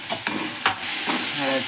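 Grated potato masala with salt and turmeric is stirred in a hot pan for dosa filling, making close scraping strokes over a constant loud sizzle.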